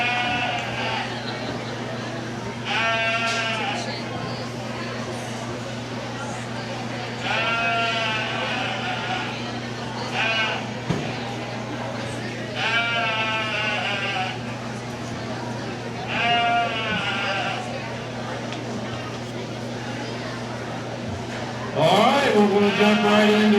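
Goats bleating in repeated, wavering calls at a county fair goat showmanship contest, several bleats spread through the clip over a steady low hum and crowd murmur, with a louder burst near the end.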